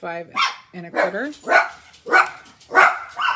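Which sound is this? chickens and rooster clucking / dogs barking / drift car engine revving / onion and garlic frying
dogs barking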